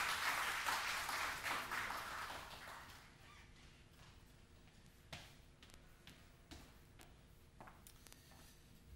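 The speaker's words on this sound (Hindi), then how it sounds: "आप सबकी तालियों में तशरीफ़ लाएंगे" Audience applause at a formal launch event as the governor of the State Bank of Pakistan is called up, clapping loud at first then thinning to scattered faint claps and small knocks.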